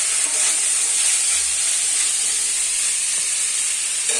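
Green chili frying with flattened rice poha in a pan, a loud continuous hissing sizzle close by with faint stirring scrapes beneath it.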